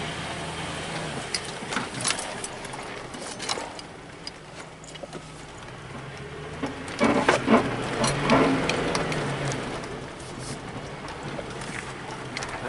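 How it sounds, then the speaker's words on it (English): A Lincoln Town Car with its hood removed drives across a yard, its engine a steady low rumble that swells louder around the middle with scattered knocks and rattles. "Feels weird driving this thing without the hood on it."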